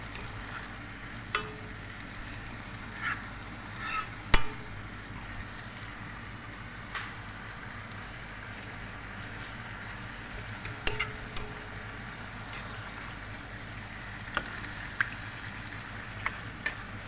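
Spinach being stir-fried in a pan gives a soft, steady sizzle throughout, broken by occasional light clicks and scrapes of stirring.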